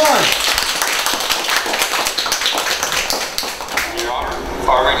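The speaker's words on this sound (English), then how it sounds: "Give them a round of applause, come on!" Audience at a school science laboratory event clapping, a sustained close burst of many hands with scattered voices mixed in, dipping briefly then swelling again near the end.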